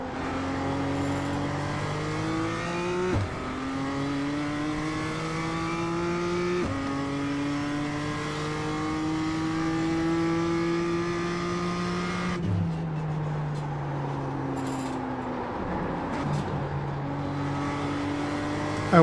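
BMW M2 engine in a racing game at the Tsukuba circuit, revving up through the gears with rising pitch and sharp shift drops, loud and continuous, a brief tire scrub near the end.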